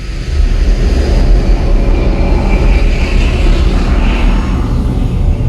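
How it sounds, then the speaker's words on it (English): A jet engine's thunderous roar in an IMAX cinema sound demonstration, a loud, steady, wideband rumble that swells in after a brief quiet start and holds alone without a break. "We can take you from a pin drop to the thunder of a jet engine."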